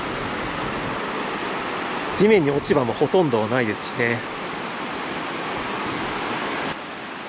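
Rushing flow of the Ryusei waterfall in Rubeshibe, a steady broadband roar throughout, with a person speaking briefly over it partway through.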